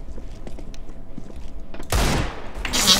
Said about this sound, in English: I'm gonna deagle someone.